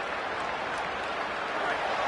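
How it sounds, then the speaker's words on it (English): A football stadium crowd roars in a continuous, even wash of massed voices and noise, heard from a distance with no single voice standing out. "The roar of the crowd trying to fuel this defense to keep them pinned in their own end."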